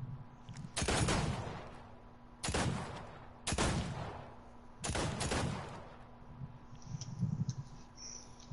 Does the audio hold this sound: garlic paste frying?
no